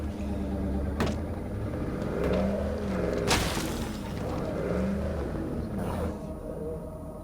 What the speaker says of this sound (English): So when you're in a vehicle, it makes noise